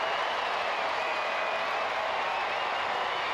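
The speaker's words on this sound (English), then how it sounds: "in front of a record crowd, City Park set into jubilation" A record crowd at City Park roars with broad, steady cheering after a St. Louis CITY2 goal against Sporting KC II in soccer, a dense wall of noise that holds evenly throughout.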